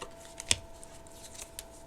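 Tarot-style playing cards handled and laid down on a table during a reading: one crisp snap as a card is placed, then faint soft sliding and light taps, close and quiet with no talking.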